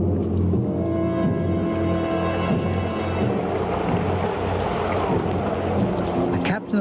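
Thunderstorm with rain, a dense continuous rumble of thunder and steady downpour filling the whole stretch, loud and close, with no voices.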